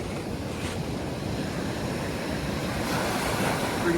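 Surf rolls onto a volcanic red sand beach below a cinder cone, a continuous wash of waves mixed with gusty wind buffeting the microphone, fairly soft and steady.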